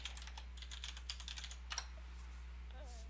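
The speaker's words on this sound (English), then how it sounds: "you need to type the name Ted Nelson" Fast, light clicks of typing on a computer keyboard come in close, irregular bursts over a steady low hum, with a brief voice near the end.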